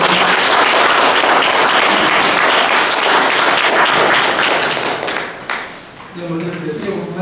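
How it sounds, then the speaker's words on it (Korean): Loud, close applause from an audience opening a Buddhist debate on rebirth in Seoul, full clapping that thins out after about five seconds as a speaker begins talking. "큰 박수와 함께 시작을 먼저 부탁드립니다."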